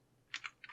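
Brief typing of HTML code on a computer keyboard, three or four quick, crisp key clicks close by in a quiet room.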